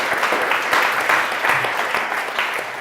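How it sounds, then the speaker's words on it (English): Comedy show audience breaking into brief, dense applause, many hands clapping at close range as a crowd, with a little voice mixed in under the clapping. "I would direct that applause to all the people"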